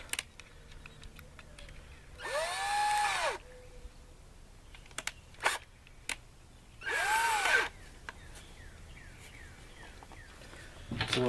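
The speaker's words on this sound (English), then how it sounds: "Hopefully I got enough juice in my drill here." A cordless drill bores into a plastic kayak hull in two separate bursts, each whirring up in pitch and winding back down, with quiet clicks and small handling knocks between them.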